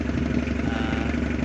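Mitsubishi L300 engine running steadily with a hose attached to the exhaust, a loud, even mechanical drone with a low rumble and no change in speed.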